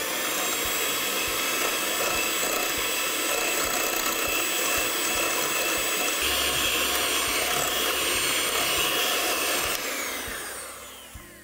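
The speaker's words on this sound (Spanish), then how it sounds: "vamos a agregar una parte del azúcar y continúo mezclando" An electric mixer beats pink velvet cake batter with added sugar, a steady loud whirring drone that runs without a break. Near the end the pitch shifts slightly and the sound then fades away.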